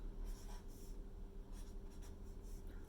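Pencil writing musical notes onto staff lines during a music lesson, a steady soft scratching and rubbing that runs without pause, close and fairly quiet.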